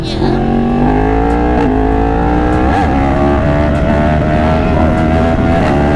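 A motorcycle engine revs hard for a wheelie, with a loud sustained drone that climbs in pitch and then wavers, close by, with a voice talking over it.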